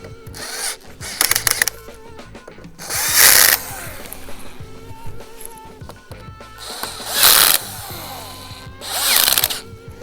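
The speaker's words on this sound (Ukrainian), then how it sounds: "Після того, як коли всі вже гвинти закручені, можна затягувати." Screws being driven with a power drill into the folding mechanism of a Xiaomi electric scooter, three loud whirring bursts between quieter clicking and handling.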